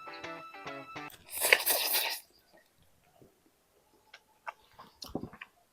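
Crunchy chewing of Indomie mie goreng Aceh instant noodles, a close burst of mastication after some tonal sounds, then sparse faint bites and smacks.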